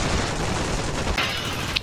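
AK rifle fire in a military shooter video game, a rapid sustained burst of loud automatic gunshots rattling close by, with a couple of sharp metallic cracks near the end.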